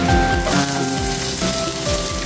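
Garlic sautéing in a pan, a close, steady crackling sizzle with no voices.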